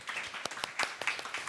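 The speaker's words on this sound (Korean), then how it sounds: "큰 박수 부탁드리겠습니다." Book-concert audience greets the guest speakers with applause, a brief, fairly faint patter of individual claps heard from a distance.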